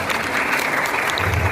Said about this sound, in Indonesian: Kita berikan tepuk tangan ya.